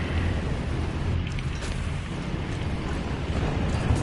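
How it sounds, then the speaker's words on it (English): A big explosion in the tank and aircraft battle game War Thunder rumbles as a loud, sustained low boom that rolls on for several seconds and swells again near the end, with no talk over it. "Holy explosion."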